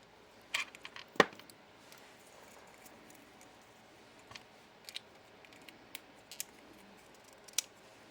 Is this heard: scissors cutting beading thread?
yes